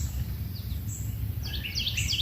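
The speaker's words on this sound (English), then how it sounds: "Usually the birds are going crazy here." Faint birds chirp outdoors at a fishing spot, a few thin, scattered calls rising over a low, steady background rumble.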